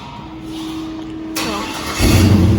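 An LS-swapped pickup truck cranks and catches, its V8 firing up loud and close after a moment of low idle-like hum, the engine note swelling into a deep rumble at the end.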